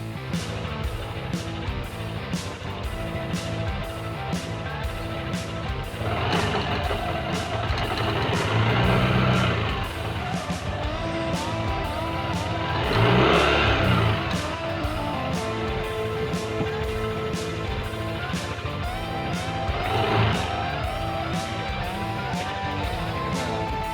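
A Yamaha NMAX ABS 2020 scooter engine runs at a steady hum with the front wheel held still while the throttle is opened. The hum swells louder three times, as if revved, then settles back.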